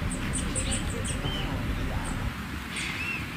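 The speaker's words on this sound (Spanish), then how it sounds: "¿Escuchan los pajaritos?" Small birds chirp in a video playing in the room, short high tweets repeating across the first seconds and once more near the end, fairly faint over a steady background hiss.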